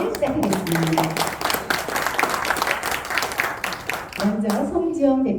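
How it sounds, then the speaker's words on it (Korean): Audience applause at the opening of a humanities lecture at a cultural center in Daejeon, Korea, with steady crowd clapping throughout and voices speaking over it near the start and end. "다 함께 큰 박수로 오늘 특강을 시작하겠습니다"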